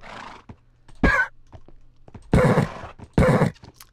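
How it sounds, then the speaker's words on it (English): A regular horse in Minecraft 1.6 makes short snorts followed by two loud, close whinnies, separated by soft clicks and quiet gaps. "That's how a regular horse sounds."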